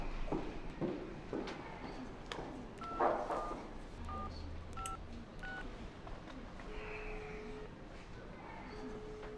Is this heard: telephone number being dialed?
yes